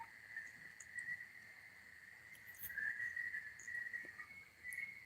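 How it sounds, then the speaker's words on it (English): Loud night chorus of frogs or insects near a fishing spot, a steady high trilling drone with brighter rising and falling notes over faint background, no speech. "Yeah, the frogs are nice and loud."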